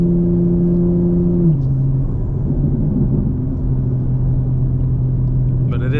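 A 2024 BMW M4 engine pulling under acceleration on a drive, a loud steady drone that drops in pitch as a gear changes, heard from inside the cabin with no talking.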